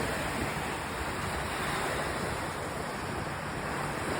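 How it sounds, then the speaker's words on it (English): Rough lake waves wash onto a breakwater beach at Ludington South Breakwater Beach, a steady, dense roar of surf mixed with wind buffeting the microphone, constant and loud for the whole stretch with no voices. "So the waves are a little rough today."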